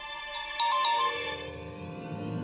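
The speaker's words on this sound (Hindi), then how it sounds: "ये मेरी मदर इन लॉ का फोन है, मुझे लेना पड़ेगा।" A mobile phone ringtone chimes in a TV drama scene, a bright electronic melody ringing steadily and fairly close, with no voices over it.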